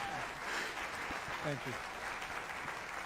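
An audience at a vice-presidential debate watch party applauds in a steady wash of clapping, faint and distant, while voices talk over it.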